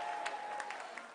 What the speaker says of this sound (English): Another round of applause for Abiana.